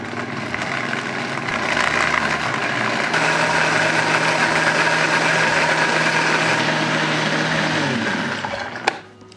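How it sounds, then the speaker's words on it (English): A kitchen blender whirs as herbs are ground with oil into a sauce, the motor ramping up after a couple of seconds, holding a steady loud whine, then spinning down at the end. "Lid on and just start blending."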